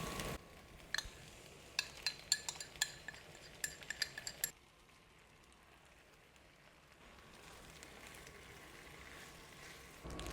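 Chicken and Japanese spinach being tossed with sauce in a pan, a run of close, bright clinks and scrapes of utensil on metal for a few seconds, then a quieter sizzling hiss with no talking.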